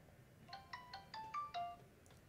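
A phone ringback tone plays on an outgoing call, a short run of rapid repeated electronic trill pulses, clear and close with no talk.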